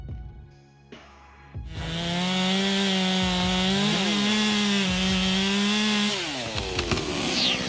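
A chainsaw cuts into a tree, starting after a brief quiet lead-in and then running loud and steady for several seconds before easing off near the end, with no talk over it.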